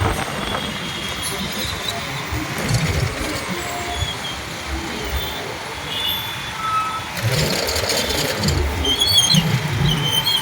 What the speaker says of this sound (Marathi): हा ट्रॅफिक इकडनं सुरुवात होते याची, हा कुठपर्यंत जमा झालेला आहे